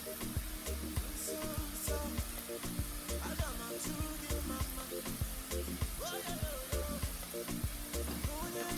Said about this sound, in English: And then here I'm going to add the onions